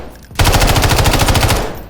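Rapid bursts of automatic gunfire in the Modern Warfare III firing range, a loud, close string of about a dozen fast shots lasting under two seconds with no talk.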